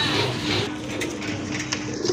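Soft, low cooing from pigeons for sale at a pigeon market keeps going under a steady, noisy background, with a few faint higher bird calls.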